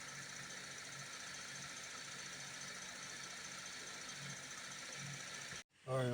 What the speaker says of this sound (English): So let's just let it run and see if the high fans kick on when the engine temperature get up.